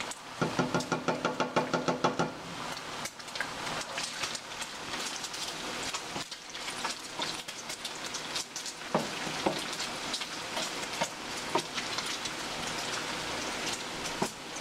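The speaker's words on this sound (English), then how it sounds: "So you want to turn it on low and just let that simmer." Butter simmering on low heat in a pan, a continuous crackling, spattering sizzle with dense small pops that stays steady throughout, no voices present.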